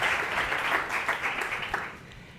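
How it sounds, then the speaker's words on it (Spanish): Audience applause greeting three speakers at a digital business conference, a dense burst of clapping that fills the room and tapers off toward the end. "Un aplauso para ellas"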